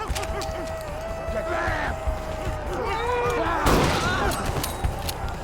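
Gunfire rings out in a scene from the film Dark Harvest as a shop owner shoots at teens, with sharp bangs and a loud burst near the middle amid shouting, running and a musical score.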